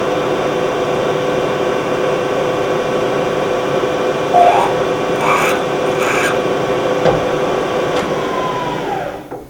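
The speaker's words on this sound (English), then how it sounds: "Start drilling the hole, but only go about 50 to 100 thousandths deep" Continuous machine whine with a steady tonal hum as a drill starts a shallow hole in metal, broken by a few brief scraping bursts of cutting partway through, then the motor spins down.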